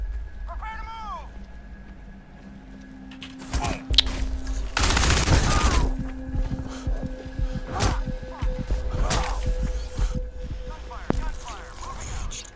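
Video game gunfire from Crysis 2 Remastered breaks out in a dense volley, followed by scattered sharp shots against a noisy background with occasional vocal sounds.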